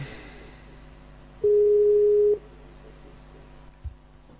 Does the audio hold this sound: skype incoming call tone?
yes